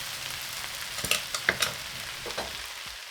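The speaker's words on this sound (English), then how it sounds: "Add the spring onions and cilantro, stir briefly," Egg and vegetable stir-fried noodles being briefly tossed with spring onions and cilantro in a hot pan, giving a soft steady sizzle with a few sharp scraping and clinking strokes of a spatula near the middle.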